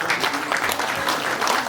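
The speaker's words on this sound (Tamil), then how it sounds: "அவருக்கு ஒரு பெரிய கைத்தட்டல் கொடுக்கலாம்." Sustained audience applause at a movie audio and trailer launch event, dense clapping from a crowd filling the hall steadily throughout.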